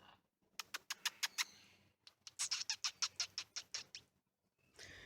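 A parrot at a bird park gives rapid series of sharp, clicking chirps in two bursts, loud and close, with short pauses between them and a brief noisy call at the end.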